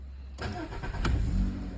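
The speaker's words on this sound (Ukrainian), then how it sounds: "Заводиться машинка дуже гарно" A used Volkswagen Golf Plus, freshly imported from Germany with 157,000 km, starts up close by: a sharp crank catches into a rough, rumbling idle that settles steadily, with no talking.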